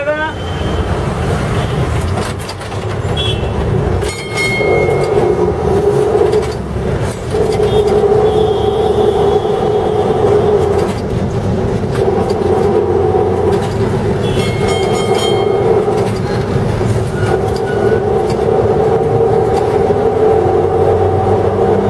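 A Kolkata tram runs on city rails with a loud steady rumble and rattling wheel noise, brief screeches and clanks rising over traffic, while a voice speaks over it.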